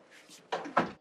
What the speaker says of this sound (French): Ferme la porte, Bruno.